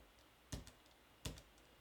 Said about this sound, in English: if I hit T on the keyboard and I just tap out my tempo